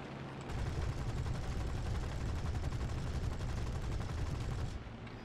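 Aircraft guns in a combat flight game fire one long, continuous burst, a loud, dense rattle lasting over four seconds before cutting off abruptly.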